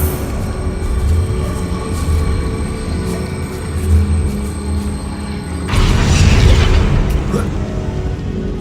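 A Confringo fire spell in Hogwarts Legacy bursts with a sudden loud whoosh and blast partway through, over a continuous rumbling background.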